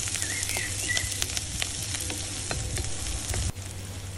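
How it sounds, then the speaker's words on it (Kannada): A large chopped onion frying in hot oil in a pan for a North Karnataka masala dish, a steady close sizzle with occasional scraping stirs. "ಇದನ್ನೂ ಒಂದು ಸ್ವಲ್ಪ ಹುರ್ಕೊಳ್ಳೋಣ."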